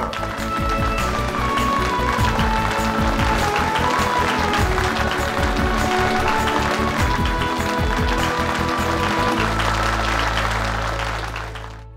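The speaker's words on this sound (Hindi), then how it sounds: "तालियां।" Loud, dense clapping from a large audience, continuous throughout, with music playing underneath and fading near the end.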